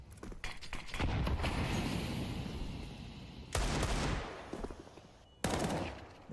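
Video game gunfire from a Desert Eagle hand cannon during a competitive match, several loud close shots and bursts with noisy decays between them, heard in separate clusters.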